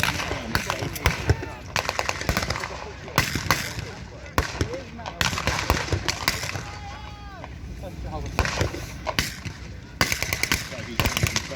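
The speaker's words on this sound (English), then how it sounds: "Now this is the cycling rate of that MG42" An MG42 machine gun fires rapid, ripping bursts during a Tankfest battle reenactment, heard as repeated loud chattering volleys separated by short pauses, with people talking and shouting between and under the bursts.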